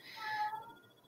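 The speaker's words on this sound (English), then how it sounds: "I gotta go soon because it's his howling time now." A pet cat howls once in a drawn-out, tonal yowl lasting about half a second, then fading to a thin lingering whine; close and fairly quiet, with no talking.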